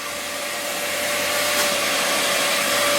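Shop vacuum running steadily during body filler sanding on a Mercedes, a loud continuous whine and rushing airflow held close throughout, with no talking heard.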